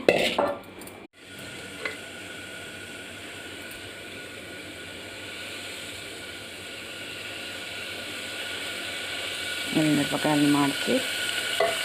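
Chillies frying in a pan for ridge gourd chutney give a steady soft sizzle throughout, close by, with a brief clatter early on and a few metallic clinks of a utensil near the end.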